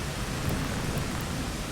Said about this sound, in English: Hoping that rain's gonna wash that thing away.